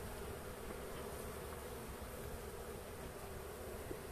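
Honey bees hum steadily around a Trabzon hive in January, a dense, even buzz that holds close and constant without a break.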